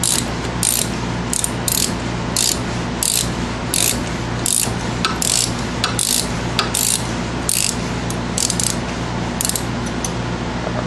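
A ratchet wrench clicks rapidly and steadily, up close and loud, as it loosens a front brake caliper bolt on a 2002 Town and Country minivan. The pawl clicks come in quick repeated strokes with brief pauses.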